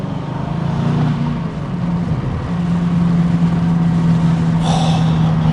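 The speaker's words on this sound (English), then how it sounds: "Those downshifts, incredible for an SUV, at least in my opinion." An Aston Martin DBX SUV engine drones loudly close by, dipping and rising through downshifts with deep growling revs and a brief crackle near the end.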